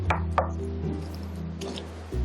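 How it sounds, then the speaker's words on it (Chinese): Shrimp paste for moon shrimp cakes being slapped by hand against the inside of a bowl, giving two sharp thuds early, a softer smack near the end, and a steady low hum underneath. "这样子摔打。"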